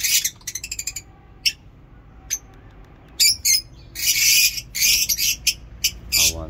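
Caged lovebirds, parrots and pigeons in a small home aviary give sharp, bright chirps and squawks in scattered bursts, some rapid and repeated, over a quiet background hum.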